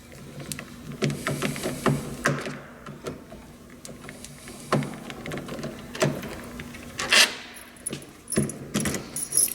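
Metal clicks, scrapes and jingling taps from removing a set screw on a door lock cylinder, irregular and close by, with short pauses between sounds.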